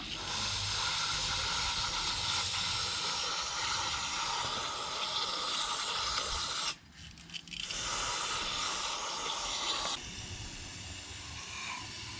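Steady pressurized hiss of carburetor cleaner spray on a 2010 Toyota Prius part, briefly stopping midway before resuming, then continuing slightly softer.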